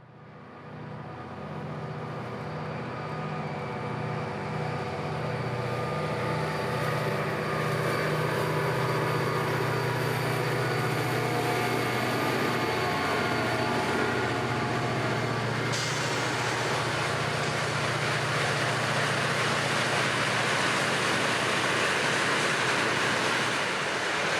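CSX work train W029 crossing the Etowah River bridge overhead on the W&A line in North Georgia, a steady rumbling roar with low engine hum that holds loud throughout and brightens with added high rattle partway through.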